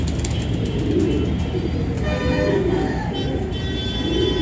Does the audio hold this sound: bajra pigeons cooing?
yes